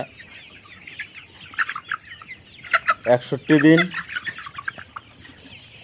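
A flock of pullet hens clucks and squawks nearby in busy overlapping calls, with a brief spoken phrase partway through.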